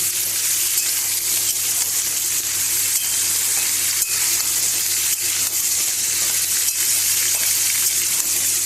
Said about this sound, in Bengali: এবার এর মধ্যে আমি মিষ্টি আলু আর কুমড়োটা দিয়ে দিলাম, দিয়ে আবার এটা খানিকক্ষণ ভেজে নেব